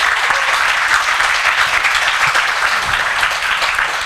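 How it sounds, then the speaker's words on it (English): Steady applause from a conference audience, many hands clapping together in a dense, continuous wash that holds at an even level throughout. "Let's give another round of applause to our speakers"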